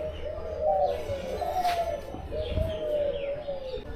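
Doves coo repeatedly in soft, rolling calls from an enclosure shared with peacocks at the Mohera Zamindar Bari zoo in Tangail, with faint chirps around them.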